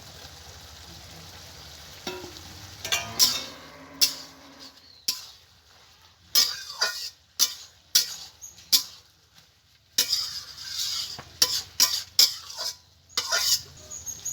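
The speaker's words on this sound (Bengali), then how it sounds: "দেখুন এখন আমি ভেজে রাখা চিংড়িগুলো দিয়ে দেবো।" Fried prawns stirred into bottle gourd and potato in a pan, with repeated close scrapes and clinks of a spatula against metal, coming in irregular bursts separated by brief quiet pauses.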